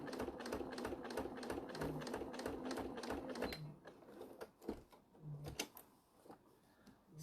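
A sewing machine stitches fabric for a bag, its fast, even needle chatter running steadily for several seconds, then stopping and starting in short bursts, close and quiet.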